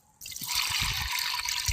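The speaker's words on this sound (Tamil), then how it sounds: "அதை மொத தண்ணியை மட்டும் கழுவி ஊற்றிட்டு அடுத்த தண்ணியை நம்ம கழுவி எடுத்து வச்சுக்கலாம்." Rice is washed in water in a home kitchen and the rinse water poured off, a sudden close splashing pour that runs steadily after a quiet start, with sloshing and trickling throughout.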